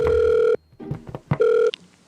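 Electronic telephone ring in two loud bursts separated by a gap with brief clicks and knocks, the tone steady and buzzy, heard alone without talk.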